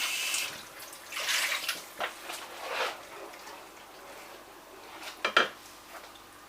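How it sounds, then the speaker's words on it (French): A container rinsed under a running tap at a kitchen sink, with water splashing in uneven bursts, clinks of dishes and a couple of sharp knocks near the end, close and moderately loud, no talking. "je rince un peu"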